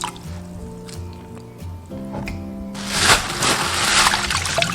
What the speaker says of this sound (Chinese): 碗中加入一把洗净的干香菇，加入清水